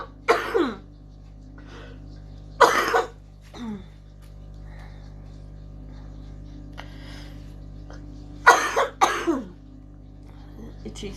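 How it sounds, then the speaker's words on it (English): Several harsh coughs and throat clearings come in bursts, a pair early on and another close pair near the end, with quiet pauses between. "I'm going to have a coughing fit in a minute."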